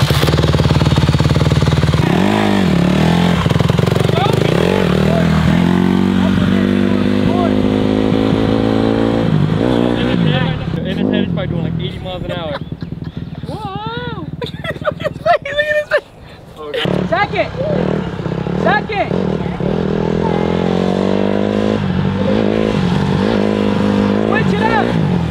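A dirt bike engine idles and revs repeatedly during a riding lesson, loud and close with rising and falling pitch, briefly cutting out before restarting, while people talk over it.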